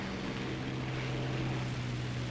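A Soviet I-15 M-22 biplane in War Thunder flying with a damaged wing, its propeller engine droning in a steady, even hum with a strong low tone, heard alone at moderate volume.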